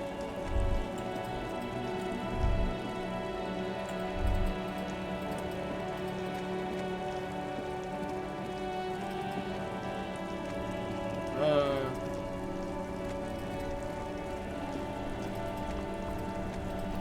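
Steady rain falls in the video game Disco Elysium during a traffic jam scene, a soft continuous patter under ambient music with a few low thumps.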